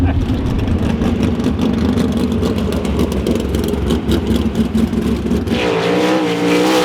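A sprint car engine roars as it gets up to speed on a race track at Las Vegas, loud and continuous, then drops off abruptly near the end into a different, lighter engine tone.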